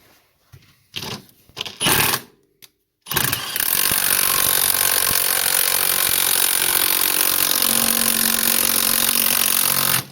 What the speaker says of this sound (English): we're gonna sand it.